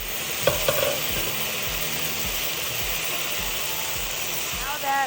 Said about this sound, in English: The rice has fluffed up and we've been stirring it for a bit.